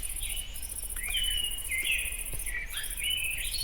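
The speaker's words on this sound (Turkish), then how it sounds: "Şu kuş seslerini biraz kıssam mı acaba?" Repeated bright bird chirps and short whistled calls in Minecraft over a steady high insect-like hiss and low background rumble, continuous throughout.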